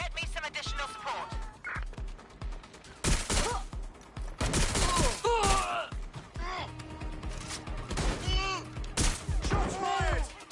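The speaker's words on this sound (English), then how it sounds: "Shots fired!" Repeated gunfire bursts in the video game Watch Dogs Legion, loud and irregular volleys crackling over about ten seconds, with voices shouting between and under the shots.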